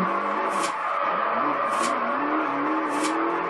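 Cars drift sideways in the racing video game Forza Horizon 2, with a steady engine drone under three repeated tire squeals at roughly even intervals, loud and continuous.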